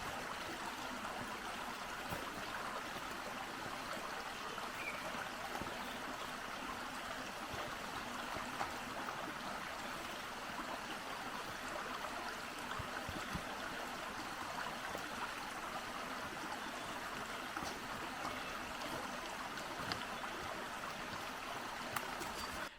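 A creek runs near a hiking trail, giving a steady, faint wash of flowing water that holds evenly throughout with no voices.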